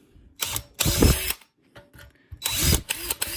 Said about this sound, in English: So let's just drill these out.